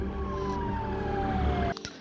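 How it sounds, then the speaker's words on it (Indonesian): An ambulance siren wails loudly and steadily with a sliding tone, close by over a busy street, then cuts off abruptly near the end. "selang tak berapa lama ambulan pun datang."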